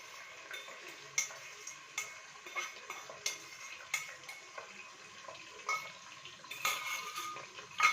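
Beaten eggs are stirred in a pan of hot oil, giving quiet rhythmic scrapes and clinks of a utensil against the pan about once a second over a faint sizzle.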